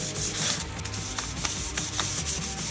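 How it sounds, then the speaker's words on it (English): Sandpaper scuffing the edges of a 1966 Mustang front grille, a steady close rubbing and scratching texture with short repeated strokes, no talk. "Take some sandpaper. You just scuff off just kind of the edges of this stuff."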